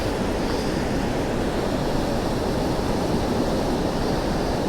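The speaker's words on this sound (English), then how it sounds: "I love that roaring sound of the water." Roaring water rushes in a dense, constant broadband wash, loud and close outdoors, with no voices over it.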